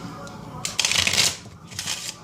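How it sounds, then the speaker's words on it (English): A spectator shuffles a deck of playing cards during a magic trick, making two quick riffling bursts of fluttering card slaps with a short pause between them. "you can tell the spectator to shuffle the cards if he wants"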